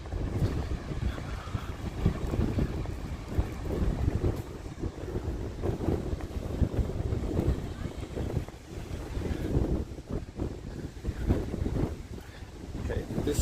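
Steady, heavy wind buffets the microphone on a street in Malmö, Sweden, for the whole stretch, a loud low rumble with gusty swells and no clear pauses.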